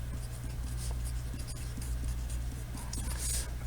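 Faint scratching of writing out a kinematics equation on a board during a physics lesson, quiet intermittent strokes over a steady low hum.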